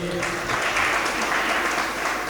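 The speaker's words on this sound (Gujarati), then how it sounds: "એકવાર જોરદાર તાળીઓથી એમને વધાવી લઈએ." An audience at a satsang gathering giving a saint a warm welcome with loud, dense, continuous clapping that fills the space evenly from start to finish.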